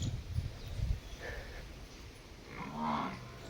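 A low, drawn-out water buffalo moo rising near the end, faint and somewhat distant outdoors, with a few soft thumps earlier.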